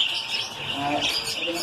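Baby lovebirds chirp nonstop in a busy, high-pitched chatter, close by, with faint murmuring in the background.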